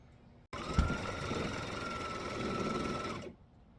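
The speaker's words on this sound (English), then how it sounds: "we're going to stitch our lines that we just drew" A sewing machine stitches drawn lines across a fabric tote, running as one steady close hum for nearly three seconds before stopping.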